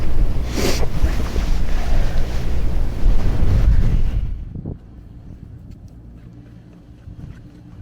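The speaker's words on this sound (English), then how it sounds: "I was filming that last section, big gust of wind" A big gust of wind in the Scottish Highlands at Nevis Range buffets the microphone with a loud roar for about four seconds, then drops to a quieter rustle.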